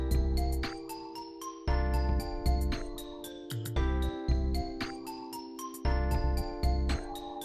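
Bright melodic music in the Mixolydian mode, with sustained keyboard chords under a higher line of chiming, bell-like notes, steady and moderately loud throughout.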